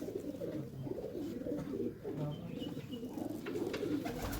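Pigeons coo steadily in a loft at Dina, a low murmuring chorus of several birds that runs the whole time, fairly close, with faint rustling over it.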